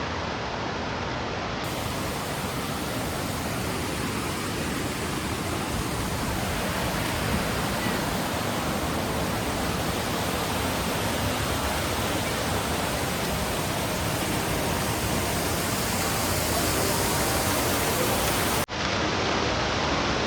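A hillside waterfall near Darjeeling roars as a dense, steady rush of falling water, loud and unbroken for the whole stretch, with no voices.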